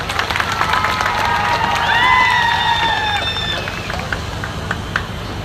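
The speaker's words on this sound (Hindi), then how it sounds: "उनके लिए भी ताली बजा दें" Crowd at an eco park inauguration ceremony with cultural performances, clapping and cheering loudly and steadily close by, with shouted, whistle-like voices rising above the noise for several seconds before it eases.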